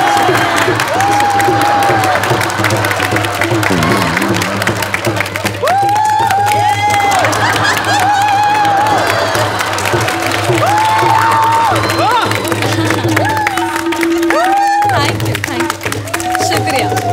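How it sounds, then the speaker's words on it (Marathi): Audience claps and cheers through a comedy stage show's ghazal gathering, sustained applause and whoops mixed with singing and voices over it. "अहो हे खूप झालं टाळ्या"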